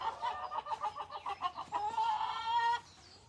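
Backyard hens cluck in a quick run of short, rhythmic notes that rise into a longer drawn-out cackle, close and fairly clear, with no talking.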